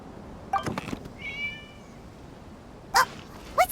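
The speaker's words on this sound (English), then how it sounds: "It was just a cat." A single drawn-out cat meow sounds briefly amid a few sharp clicks and thumps in the game Hues of the Violet Garden, fairly quiet against a hushed background.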